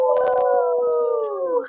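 Several people howl together in imitation of wolves, a loud sustained chorus of long, slowly falling wails lasting under two seconds.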